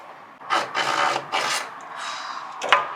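A hand saw cuts through wood during a bathroom renovation, giving several close, rhythmic rasping strokes with short pauses between them and a sharp knock near the end.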